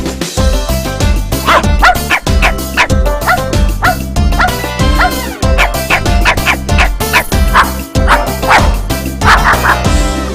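Close, loud dog barks and yips repeat in quick bursts over a rhythmic musical backing in a Turkish children's farm song, more like a song than a real dog.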